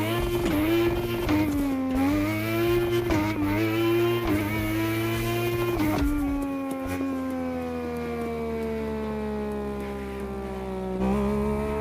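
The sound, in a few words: Someone imitating Alpha GP race car engine with his mouth, in video game The Crew Motorfest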